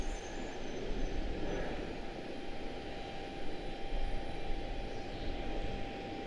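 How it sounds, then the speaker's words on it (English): An airplane at Charlotte Douglas airport rumbles from a distance, a steady broad engine roar that swells and eases slightly, with no talk. "Oh, we need some aircraft here. Here's one."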